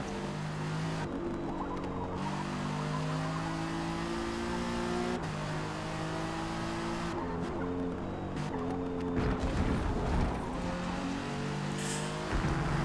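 Ginetta GT4 race car lapping Spa in Forza Motorsport, a steady engine drone with rising and falling gear-change sweeps, continuous and close, with no talking over it.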